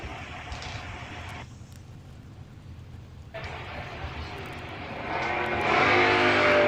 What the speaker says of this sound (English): Camaro leaving first.